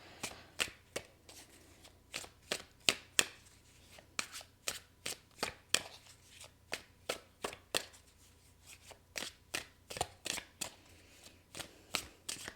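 Playing cards being shuffled and dealt out, a steady run of about thirty crisp snapping flicks in quick rhythm, close and clear with no talking.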